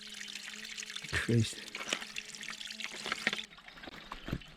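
Water pours and trickles as a bag is filled at a mountain spring in the Lake District fells, with a brief louder gush near the middle, a person speaking briefly over the flow, and outdoor ambience.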